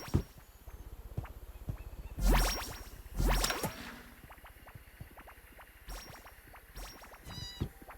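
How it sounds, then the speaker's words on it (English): Cats meowing in a building game, with two louder meow-like bursts near the middle over a constant buzzy, clicking background and a few softer cries later. "I could hear my cats."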